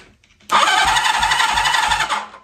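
A 1980 Honda CB650 motorcycle under restoration cranks and fires abruptly, then runs loud and close with a rough, pulsing chug for about two seconds before fading off.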